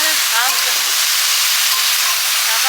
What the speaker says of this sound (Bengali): সবজির সাথে পেঁয়াজটা দিয়ে দিয়েছিলাম পেঁয়াজ আলু সব ভাজা ভাজা হয়ে গেছে